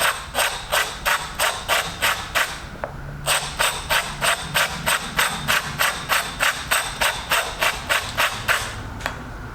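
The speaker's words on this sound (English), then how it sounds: "I'm gonna go with the sand block going all the way down" Sanding block rubbing down the edge of a cut glass mirror circle, steady rhythmic rasping strokes repeating evenly and close, with one brief pause partway through.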